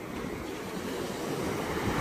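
Rough surf breaking on the beach at Itaipuaçu under a cold front, a steady broad roar of churning water mixed with wind buffeting the microphone, with no voices.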